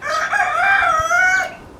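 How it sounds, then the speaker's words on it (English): A single rooster on a small backyard duck and poultry homestead lets out one clear, close, loud cock-a-doodle-doo lasting about a second and a half, with quiet surroundings and no talking. "he's so good compared to what some roosters sound like"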